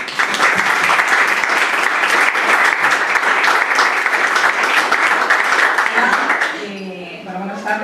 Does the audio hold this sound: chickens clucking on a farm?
no